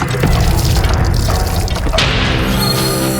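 Tap water runs and splashes steadily close by as hands and face are washed at a sink, with a brief knock and a shift in the flow partway through.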